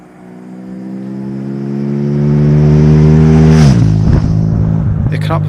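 A KTM 790 Duke motorcycle fitted with an Akrapovic exhaust revs up steadily, its loud, close engine note climbing in pitch before dropping sharply and settling back to a rumbling idle.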